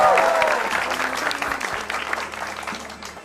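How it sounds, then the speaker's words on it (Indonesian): A studio audience at a televised stand-up comedy show claps for a comedian's introduction: a thick, sustained burst of applause, loud at first and easing slightly, with brief voice traces underneath. "Komik keduanya langsung aja kita tepuk tangan untuk Ernest."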